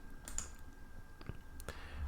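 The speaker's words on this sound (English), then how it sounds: "So I'll just click on save." A few soft, isolated mouse clicks, sparse and close, as the save button is pressed in accounting software, over a quiet background with no talking.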